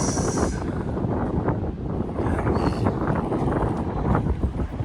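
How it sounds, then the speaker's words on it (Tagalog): Continuous heavy wind at a high lookout above Lake Mendota in Madison, Wisconsin, rushing across the microphone, a dense roaring rumble that stays loud throughout. "Sarap ng hangin dito sa taas."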